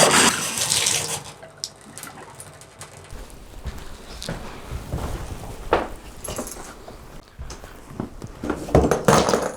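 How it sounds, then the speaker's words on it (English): A water heater draining out through a bathtub spout: steady gushing and splashing water with occasional clinks and knocks, fairly close and continuous. "we're just going to drain it at the tub."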